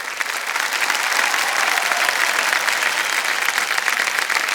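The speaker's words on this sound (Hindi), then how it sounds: "जोरदार तालियां बज जाएं इनके लिए।" Steady, loud studio audience applause on a quiz show set, a dense wash of many hands clapping continuously without a break, with no voices over it.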